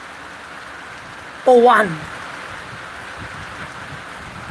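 Rain falls outdoors as a steady, even hiss throughout, with a short spoken phrase cutting in briefly near the middle.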